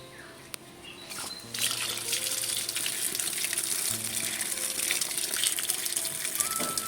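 Tap water gushes steadily into a sink while pointed gourds are washed by hand, a close continuous splashing rush with small clinks and no talk.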